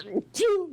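A single close sneeze from a person, a short breathy intake followed by a sharp voiced burst that trails off, heard alone with no talking.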